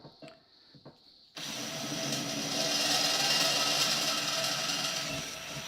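A power drill whirs up abruptly after a few quiet clicks, then runs steadily and loudly, its motor pitch rising slightly as it bores for a screw on a steel gate hinge.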